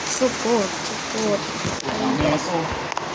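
Steady rain hissing down on a surface, with people talking over it throughout.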